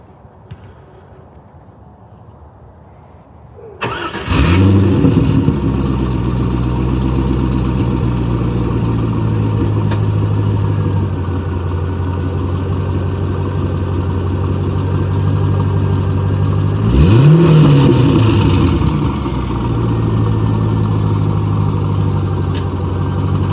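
Corvette with a newly fitted aftermarket exhaust: after a quiet moment the engine fires up with a loud bark, settles into a deep rumbling idle, then blips the throttle once more in a sharp rising rev before dropping back to idle, heard close up.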